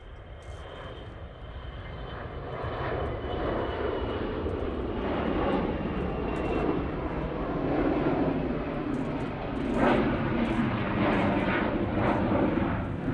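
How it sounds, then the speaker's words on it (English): A Bombardier Global business jet roars through a steep takeoff at an airport, a loud, steady broadband engine rumble that swells and holds, with no voices over it. "Bonkers takeoff from that Bombardier Global."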